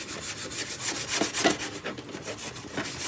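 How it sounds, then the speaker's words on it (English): Wood coated in many old layers of paint is sanded by hand in short, uneven rasping strokes, a close, scratchy scrubbing sound with no talking. "I love how it looks when we sand it."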